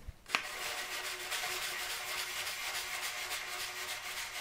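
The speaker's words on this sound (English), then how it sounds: "Wetten the wet sanding paper in your wet sanding bucket and then start sanding." Steady rough rubbing of wet sanding paper over paint runs, a continuous scratchy hiss that keeps an even level throughout after a brief knock at the start.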